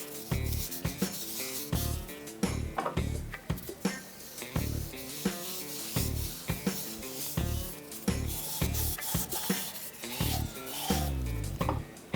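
Steady rhythmic rasping of sandpaper rubbed back and forth by hand on a coconut shell, close and continuous, with repeated strokes and no voices.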